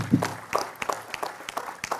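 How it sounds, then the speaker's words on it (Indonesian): A sparse, uneven round of clapping at an Indonesian talk gathering, individual handclaps picked out irregularly rather than a full roar, moderately near and fading in and out over two seconds. "Tepuk tangan untuk beliau."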